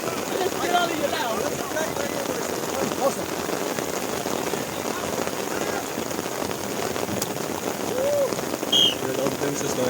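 Steady rain hisses down during an outdoor touch rugby league match in Pretoria, a constant wash of noise heard under scattered shouts and talk from players.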